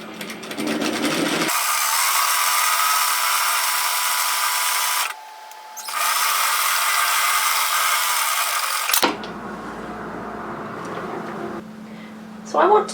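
A sewing machine running stitches along an apron hem over the overlocking line, in close, loud bursts of fast mechanical whirring that stop and restart, with a brief pause between runs and quieter handling afterward.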